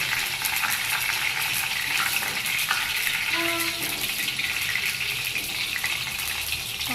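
Sev mamra fries in hot oil in a home kitchen, a loud steady sizzle with bubbling and occasional stirring scrapes, no talk.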